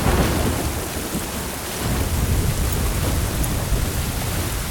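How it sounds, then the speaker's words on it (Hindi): A thunderstorm with heavy rain over a river, dense continuous downpour hissing loudly with deep rumbling thunder underneath, the roar slightly easing and swelling again, no voices. "ऐसे तूफान में नाव को उस पार लेकर जाने से हमारा नुकसान होगा।"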